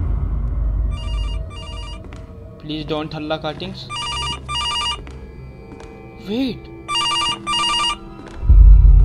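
Electronic telephone bell rings in repeated short bursts inside a ghost-haunted police station in a horror video game, sounding between a player's excited talk and other game noises.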